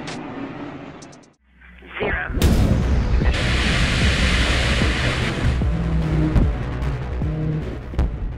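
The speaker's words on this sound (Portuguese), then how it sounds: "A explosão épica, que parece fogos de artifício, é o apogeu de uma das fases de teste no módulo de aterrissagem Morpheus" A NASA Morpheus lander erupts in a rocket test explosion: a sudden loud blast after a brief lull, followed by a sustained roaring, crackling rumble with scattered pops.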